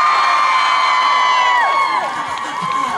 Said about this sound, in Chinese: 在维哥华姐尖叫声之后